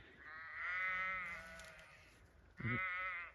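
Two long, wavering sheep bleats, one after another with a short pause between, fairly close in quiet outdoor air on a farm.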